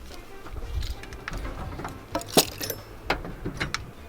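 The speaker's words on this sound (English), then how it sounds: "Remove these keys." Keys jangle and clink in a few sharp metallic bursts while being pulled from a Yamaha TDM 850 motorcycle during handlebar and triple-clamp maintenance, close and fairly quiet over a low background rumble.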